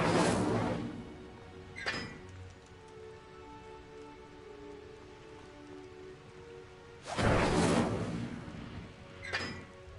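An Incendio fire spell cast in a Hogwarts video game flares as two pairs of loud whooshing bursts, each followed by a softer echo, with a quiet hiss in the gaps and no talking.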